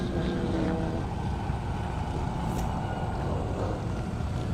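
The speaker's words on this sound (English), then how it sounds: "David Webster there is in the Hellcat, Christopher Engel in the SRT4" A Dodge Hellcat and an SRT4 race at a half-mile airstrip drag event, their engines producing a steady, loud, droning roar with no clear gaps or shifts across the stretch.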